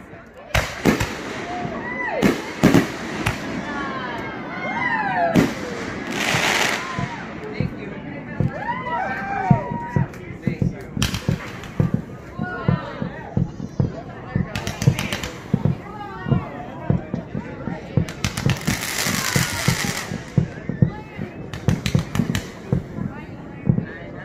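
Fireworks at a campground on the Fourth of July, a long run of booms and crackling bursts, some near and some distant, with whistling rockets and a crowd talking and cheering throughout.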